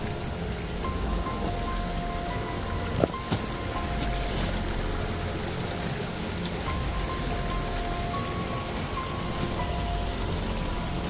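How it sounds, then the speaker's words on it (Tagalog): Loud, steady rush of a creek flowing nearby, a dense unbroken wash of water noise with a couple of brief knocks and no talking. "Sobrang ingay ng sapa guys."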